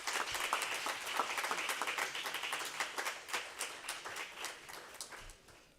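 An audience applauds at the closing ceremony of the APIIT Law School International Negotiation Competition: brisk, close clapping that thins out and fades toward the end.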